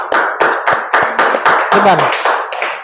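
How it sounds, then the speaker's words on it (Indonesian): Students clap together in a steady, loud, rhythmic pattern of close bursts, and a voice briefly speaks between the claps. "Tepuk tangan dulu."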